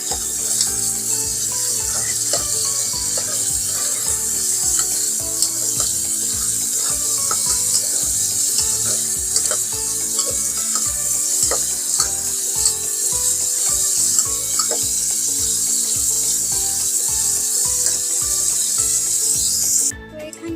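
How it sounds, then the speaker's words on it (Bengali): Small pieces of chicken breast fry in oil, a steady, fairly loud sizzling hiss that continues for about twenty seconds under a rhythmic backing track. "এখন চিকেনগুলো একটু ভেজে নেব"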